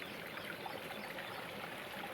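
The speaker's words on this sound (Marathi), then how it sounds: "पाहू का नाल्यांना कसं पाणी चालू आहे एकदम भरपूर वाहत आहे" Rainwater running strongly through a field drainage channel after heavy rain, a steady, faint, continuous rushing and trickling with no speech.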